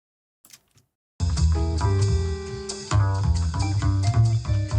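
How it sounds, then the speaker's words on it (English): Acoustic bass playing a steady melodic line, picked up by two beamformed spot mics for a wide stereo spread; full and close after a brief quiet start, with no talking. "because this is an acoustic bass, I definitely want it to sound spread"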